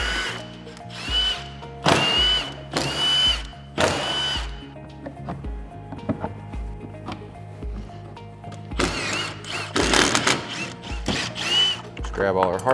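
A power driver spins out bolts from the cargo bed of a Kawasaki Teryx KRX in several short whirring bursts, with clinks and handling noises of hardware between them, close up.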